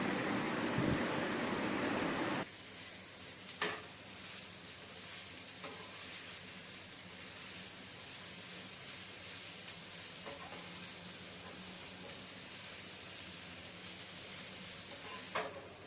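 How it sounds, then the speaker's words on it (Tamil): Sliced bitter gourd sizzles steadily in an oil pan with chili powder, a continuous frying hiss broken by occasional soft stirring scrapes, loud at first then settling lower. "அது ஸ்லோலி வச்சு நல்லா வதக்கணும்."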